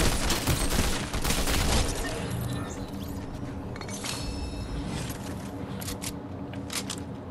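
Dense bursts of rapid gunfire in Fortnite crackle through the first two seconds, then settle into a steady layer of scattered shots and clatter, loud and close.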